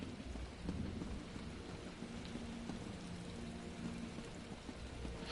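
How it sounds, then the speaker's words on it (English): Thunder and rain in the video game Skyrim, a steady faint wash of rainfall with low rumbling thunder rolling underneath, distant and continuous, no talking. "Oh, that's thunder."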